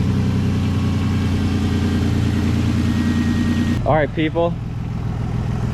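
A Nissan Skyline R32 engine idles steadily and fairly close with a low, even drone, while the A/C is being recharged. Near the end, a voice speaks briefly over the running engine.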